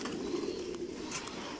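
Racing pigeons in a large pigeon farm coo in a low, rolling murmur, close and clear, with a brief brighter flutter near the end and no talking.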